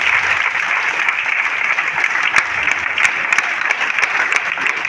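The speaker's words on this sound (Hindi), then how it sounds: "एक बार जोरदार तालियां बजा दीजिए इन लोगों के लिए।" Loud, sustained applause from a large seminar audience fills the whole stretch, a dense steady wash of many hands clapping with no voices on top.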